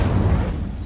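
A fire spell cast in Hogwarts Legacy gives a loud, close whooshing burst of flame with a deep rumble, fading over under a second with no talk over it.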